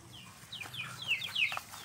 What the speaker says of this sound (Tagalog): Kita nyo yung mga manok.